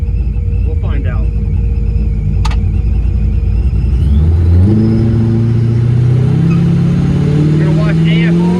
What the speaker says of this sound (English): I think that's my rev limiter hitting